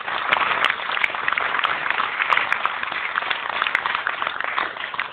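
A large audience at a business meeting gives continuous, dense applause, steady and fairly loud throughout, with a few sharper individual claps standing out.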